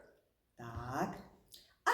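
An adult voice imitates a dog barking during a children's speech lesson about animals, giving a drawn-out voiced bark and then starting another at the end.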